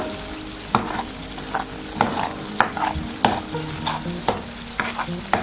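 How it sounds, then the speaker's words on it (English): Pesto masala cooks in oil already used for frying chicken, a continuous sizzle broken by regular scraping knocks as a spoon stirs it through the pan every half second or so, close and clear. "So you can see my pesto masala is being cooked."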